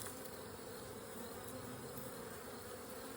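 Honeybees buzz at a backyard hive during an inspection, a steady faint droning hum with no breaks, close and continuous throughout.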